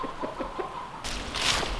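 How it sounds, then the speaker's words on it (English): Soft clucking from chickens close by, a few short calls, then a broader rustling burst. "The chickens love it."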